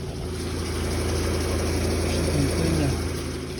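A 2003 Citroen Xsara 1.6 MPI petrol engine idles steadily after running for several minutes, giving a continuous, even hum with a low, regular pulse and no changes in pitch.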